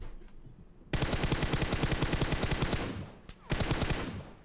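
Rapid automatic gunfire in the mobile battle royale game PUBG Mobile rattles out in two dense bursts, the first about two seconds long and the second starting after a brief pause, loud and continuous.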